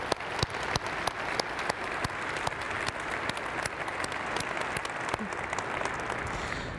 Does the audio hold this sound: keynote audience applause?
yes